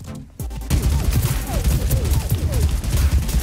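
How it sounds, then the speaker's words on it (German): Gunfire in the video game Realm Royale comes as a rapid, dense barrage of shots after a brief quieter moment, loud and continuous, with a voice faintly underneath. "Ich kann mit der Knarre schießen."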